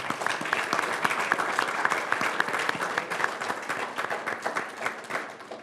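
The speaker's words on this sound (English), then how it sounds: "we'd like to give them a round of applause as well" Audience applause for volunteers at a school event with a Pro Football Hall of Famer, a dense, steady clapping from a sizable crowd lasting throughout at even loudness.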